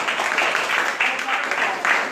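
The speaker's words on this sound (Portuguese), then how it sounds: "vamos dar uma salva de palmas para o Alex" An audience breaks into steady applause, a dense wash of many hands clapping at moderate volume with voices mixed in.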